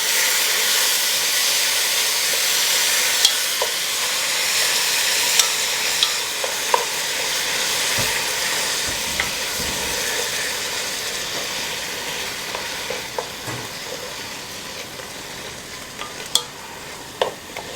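Beef, 300 g with the blood drained off, sizzling and hissing steadily as it stir-fries in a pot for a Korean radish and beef soup, with occasional scrapes and clinks of stirring over the continuous fry.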